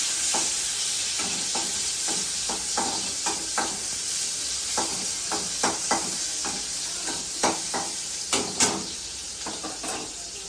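Tomatoes are stirred into a radish vegetable dish frying in a pan, with a constant sizzle under a steady series of close spoon scrapes and knocks against the pan, and no talking.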